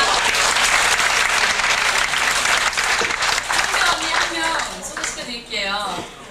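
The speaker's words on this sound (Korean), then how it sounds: "저도 네, 박수 주세요." Audience applause at a 1995 Korean concert, loud and dense clapping for about four seconds that then thins and fades as a voice begins speaking.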